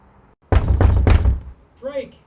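Three heavy, rapid knocks thud against a locked door, booming and close, followed by a short pause and then a brief burst of a voice.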